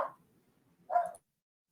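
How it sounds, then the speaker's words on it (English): A dog barks once in the background during an online talk show, a short, fairly loud burst following a fainter sound at the very start, with otherwise quiet room tone. "Dogs."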